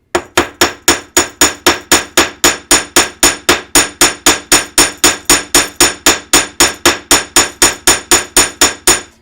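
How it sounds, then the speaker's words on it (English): A hammer strikes the ends of a workpiece to flatten them, about thirty sharp, evenly spaced blows ringing loud and close with nothing else heard. "I'm going to hammer the ends about 1/8 of an inch"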